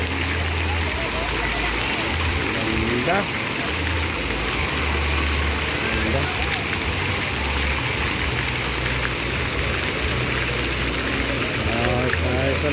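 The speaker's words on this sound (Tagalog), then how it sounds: "umiikot umiikot ang tubig" Water swirls and flows steadily at a Balayong 2024 site in Puerto Princesa, Palawan, as a constant rushing wash, with people talking over it.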